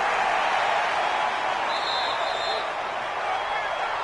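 The home crowd in a Madden football game applauds and cheers in a steady, dense roar that continues without a break throughout.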